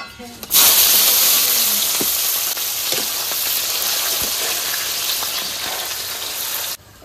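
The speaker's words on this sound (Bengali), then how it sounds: "তেল তো গরম হয়ে গেছে, এবার কুচনো পেঁয়াজ দিয়ে দেবো।" Chopped onion dropped into hot oil already used for frying brinjal, sizzling loudly and steadily with a sharp burst at the start, soft clinks of stirring, and the hiss cutting off near the end.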